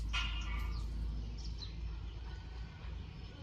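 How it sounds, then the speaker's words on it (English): A loud tokay gecko gives a short, harsh, chirping call near the start, with a few fainter calls after it, all over a steady low rumble. "it's a gecko, a tokay gecko. They're big and loud"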